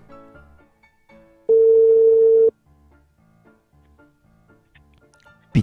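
A single steady electronic beep on a phone call sounds for about a second, loud and clear, between quieter background noise and clicks.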